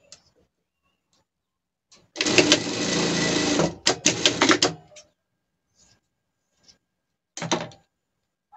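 A sewing machine runs a safety seam on a fabric pet mannequin shaped like a monkey, one long loud whirring burst of about three seconds, then a shorter stuttering run and a final brief spurt after a pause, with quiet handling between.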